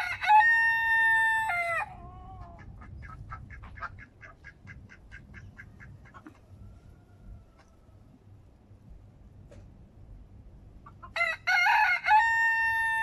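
A rooster crows loudly in a home garden, with two strong, drawn-out cock-a-doodle-doo calls at the start and end and quieter clucking fowl in between.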